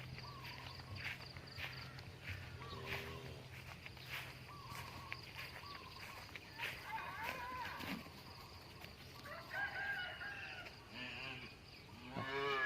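Cattle on a Charolais farm moo outdoors, with several drawn-out calls at varying distances. Footsteps, faint insect chirping and some brief talk are heard in the background.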